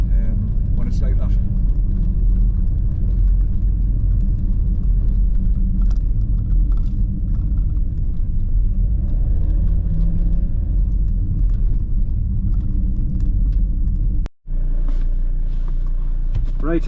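A car driving away after crossing a ford on a rough, pothole-filled road, with a steady close engine and road rumble throughout and a brief dropout near the end.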